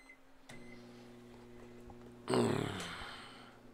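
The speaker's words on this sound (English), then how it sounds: "What are we cooking in the microwave? We're not cooking. We're just warming up the coffee." A microwave oven runs steadily while warming a cup of coffee, giving a low continuous hum with faint tonal lines, joined partway through by a louder burst of rattling noise that slowly fades.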